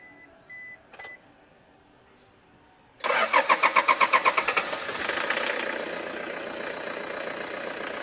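A Toyota Hiace van engine being started after a fuel filter change: a few faint clicks, then the starter cranks in a rapid run of about ten pulses before the engine catches and settles into a steady, loud idle.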